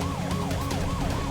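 A police siren wails in a rapid, repeating up-and-down pattern, loud and close, with traffic rumble underneath.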